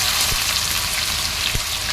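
Ground onion paste hitting hot oil during a mutton paya preparation, a dense, even crackling sizzle throughout, with two soft thuds.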